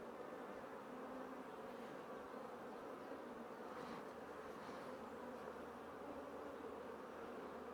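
Honeybees crawl over a hive frame where new bees are emerging from capped cells, giving a steady, close, low buzzing drone that holds evenly throughout with no talk.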